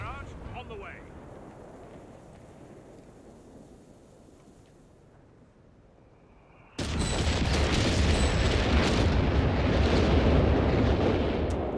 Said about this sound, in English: then we have the naval bombardment